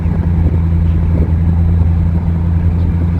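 Straight-piped Chevrolet Camaro ZL1 engine rumbling at a steady, loud, deep idle close by on a damp road, with a throbbing low drone and no talking.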